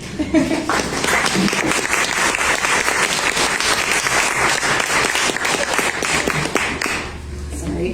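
An open mic audience gives the next reader a welcoming round of applause: dense, steady clapping that stays loud for most of the stretch and then tapers off near the end.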